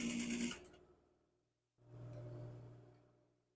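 A sewing machine stitches a seam on an old shirt collar: a short burst of running, a brief pause, then a longer steady whirring run, fairly quiet and close, with no speech.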